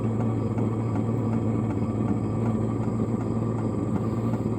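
Hcalory all-in-one diesel air parking heater runs with a steady, loud droning hum as its pump speeds up, a continuous mechanical tone with faint regular ticking over it.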